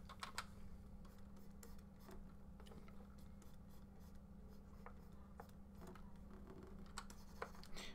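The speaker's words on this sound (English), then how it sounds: "I'm sorry for the sounds on my keyboard and me scratching the screen." Steady, rapid clicking of computer keys being typed while drawing, fairly close, with a constant low hum underneath and no voices.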